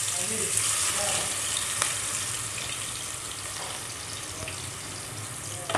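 Chopped vegetable masala with black cardamom and cinnamon frying in oil over a medium flame for a white chicken karahi, a loud, continuous close sizzle that holds steady throughout.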